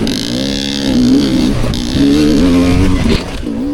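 A dirt bike engine revs loudly and raspily during a hare scramble race, its pitch rising and falling through several throttle bursts, the exhaust sounding harsh and buzzy from a silencer needing repacking.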